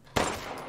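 A single gunshot fired at a chicken in the horror game Resident Evil Village: one sharp, loud blast with a short ringing decay, no voices.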